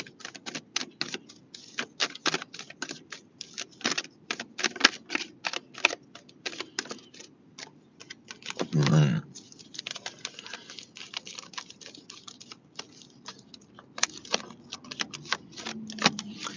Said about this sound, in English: These cards keep flipping over in big chunks.